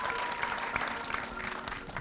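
Audience at a film Q&A event applauding steadily for about two seconds, a dense, continuous clapping texture with no voices rising above it.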